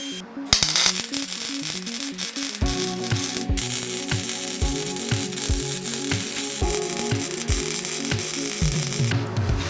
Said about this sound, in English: Alright, it's all three welded